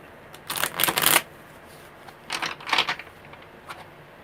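Tarot cards being shuffled by hand, heard as two quick papery bursts of riffling separated by a pause, with a softer flick near the end, close to the microphone in a quiet room.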